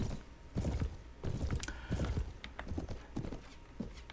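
Horse hooves clip-clop in a medieval battle scene of the video game Mount & Blade: Warband, a steady galloping rhythm of loud, close thuds with a brief creak and faint whinny mixed in.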